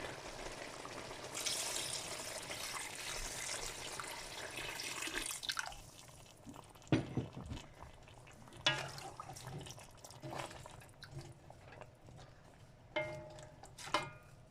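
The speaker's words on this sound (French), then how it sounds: "je vais ajouter 1 litre d'eau pour pouvoir cuire la viande" About a litre of water poured into a pot of oxtail on the stove, a dense rushing pour for several seconds that gives way to a few clunks, drips and splashes.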